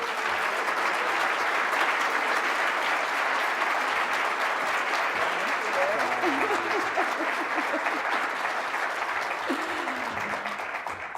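Audience at the 2018 National Bike Summit gives a sustained round of applause, a dense, steady clapping from a large crowd that holds loud for most of the stretch before easing slightly at the end.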